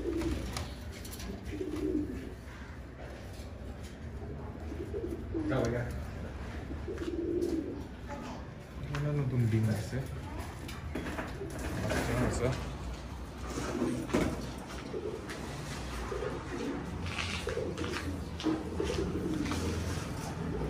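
Pigeons coo repeatedly in low, throaty rolls at a pigeon farm in Chattogram, with steady flock noise and occasional door-like clatter, while someone talks over them throughout.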